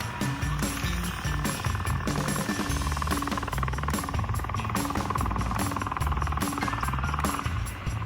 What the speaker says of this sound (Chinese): 哦，有直升机耶！